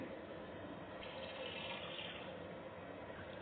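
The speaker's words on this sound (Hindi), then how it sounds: "तकरीबन 1 लीटर पानी ऐड कर देंगे इसमें।" About a litre of water pours steadily into a pot of beef for a Peshawari namkeen onion gosht recipe, a continuous close splashing rush with no talk.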